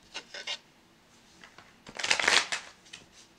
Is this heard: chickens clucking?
no